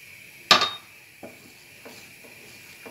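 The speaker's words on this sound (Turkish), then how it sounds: "Aynı şekilde her seferinde karıştırdığınız, eklediğiniz ürüne göre böyle karıştırıyorsunuz lahanalarınızı" Utensil clinks against a bowl while red cabbage salad dressed with oil and vinegar is tossed, a sharp clink followed by a few fainter, sparse taps and scrapes in a quiet kitchen.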